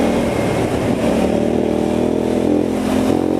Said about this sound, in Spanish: Ese motor bicilíndrico suena increíble.